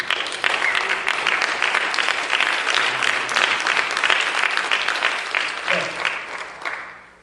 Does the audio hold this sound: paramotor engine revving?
no